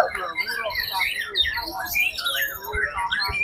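A white-rumped shama (murai batu) sings at a bird contest in Magelang, giving a dense run of varied whistles, chirps and trills at close range over a low crowd murmur and background noise.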